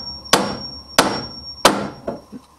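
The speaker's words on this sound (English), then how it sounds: "the hammer hit the nail from the outside" A hammer drives a nail into wood with three loud, sharp strikes spaced evenly about two-thirds of a second apart, followed by a couple of softer taps, close and without talk.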